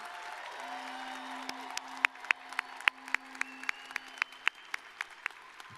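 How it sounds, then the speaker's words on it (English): Applause from a graduation ceremony audience honoring top-GPA graduating students wearing gold medallions, a steady crowd clapping with sharp individual claps standing out near the microphone, a sustained tone beneath for most of it. "Let's give them a round of applause."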